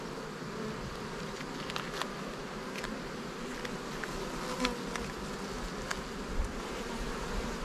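Honeybees swarm around an open hive during an inspection, a dense continuous buzzing drone close by, steady throughout with individual bees zipping past the listener.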